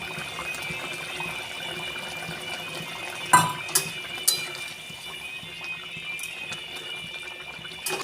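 Sauce for a spicy fish curry bubbling in a pan, a soft steady simmer heard close, with a few brief clinks of utensils against the pan partway through.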